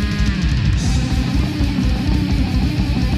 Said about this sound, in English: some very noisy bass that's about to provide its own little solo